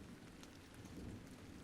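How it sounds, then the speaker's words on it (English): Steady rain pours down during a midnight thunderstorm, a continuous dense hiss with low rumbling underneath, quiet and even throughout with no voices. "the storm isn't letting up anytime soon"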